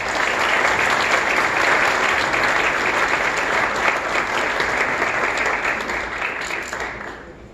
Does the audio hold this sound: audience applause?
yes